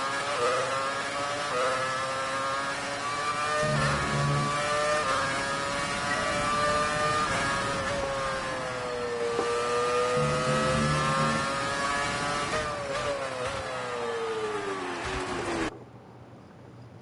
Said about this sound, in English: And this car sounds absolutely beautiful.